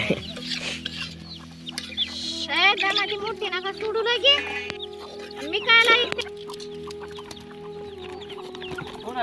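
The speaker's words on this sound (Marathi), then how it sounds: "आपल्या कोंबड्या" Chickens cluck and squawk nearby over a steady low hum, with several bursts of excited clucking scattered through.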